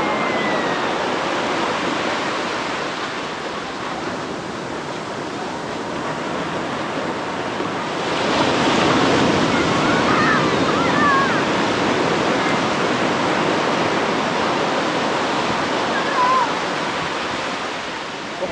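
Sea waves break and wash continuously at Rushikonda Beach in Visakhapatnam, a broad roaring surf that swells louder midway, with faint voices in the background.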